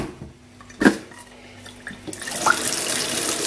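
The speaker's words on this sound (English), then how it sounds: "your decent looking pan. And fill that up with water" A clunk, then tap water starts running into a pan for boiling noodles, building to a steady rushing splash toward the end.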